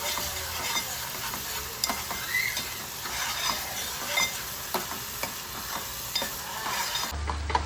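Ground wet masala fries in hot oil in a pan, a close steady sizzle broken by frequent scraping stirs of a spoon against the metal, with no talking.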